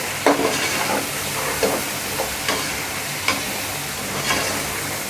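Chopped green chilies fry in hot oil in a pan for white chicken yakhni pulao, a steady close sizzle broken by a few scraping stirs and light clinks, with no talk.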